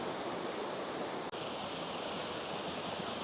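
Steady broadband rush of a man-made waterfall, a constant close wash of falling water with one brief dropout, no voices.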